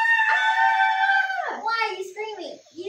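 A cartoon frog character, a frightened frog in a tropical rainforest setting, lets out a loud, sustained high-pitched scream that breaks into shorter wavering cries, delivered up close by a voice actor imitating a startled shriek.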